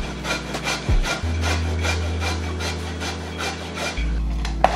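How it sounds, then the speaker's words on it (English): An ingredient is grated by hand over a grater while baking a cake, giving close, rhythmic rasping strokes with a steady back-and-forth scrape under a low background hum. "so we want to grate a half teaspoon of this stuff"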